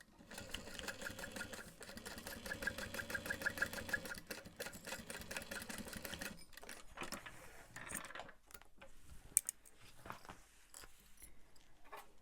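Sewing machine stitching a handbag seam with a backstitch, a quiet rapid mechanical whir of needle strokes that runs for several seconds, pauses, then resumes in shorter bursts.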